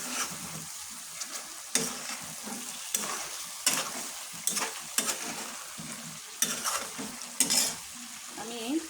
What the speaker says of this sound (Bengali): এখন আমি এটার সাথে আমার কেটে রাখা যে আলু, সেটা আমি অ্যাড করে দিলাম। এটাকে ভালোভাবে নেড়ে নেই।